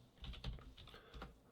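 Computer keyboard typing, quiet and close, a short burst of a few clicky keystrokes in an irregular rhythm.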